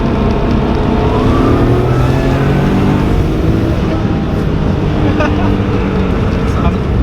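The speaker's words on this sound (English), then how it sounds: "Like right now it's super quiet, so you hear more turbo." A Nissan Skyline GT-R engine runs steadily close by at light throttle with a faint whistling turbo whine over the low rumble, holding fairly constant throughout.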